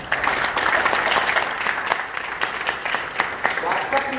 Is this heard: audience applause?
yes